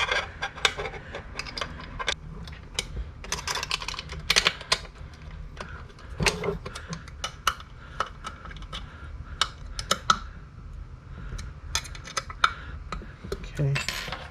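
Small metal carburetor parts for a Radium Evo X double pumper clicking and tapping as they are screwed back together by hand, scattered light clinks and knocks close by over a quiet background.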